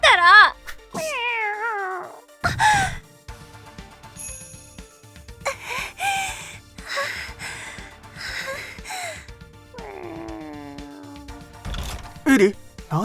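A large tabby cat meows repeatedly, with rising and falling wavering calls close by, mixed with cartoon dialogue voices and music.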